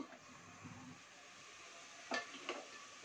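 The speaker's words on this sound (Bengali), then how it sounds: "সবজিগুলি দিয়ে দিচ্ছি এখানে হচ্ছে ফুলকপি আর বরবটি" Cauliflower and yardlong beans fry with chicken in a pan for fried rice, giving a faint, steady sizzle broken by two quick clinks of a utensil against the pan near the end.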